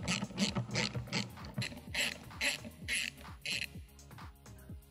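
Rapid ratcheting clicks in quick bursts as a hand ratchet backs out 7mm bolts from the headlight ballast of a 2005-2013 Chevrolet Corvette, close and fairly loud, with short pauses between strokes.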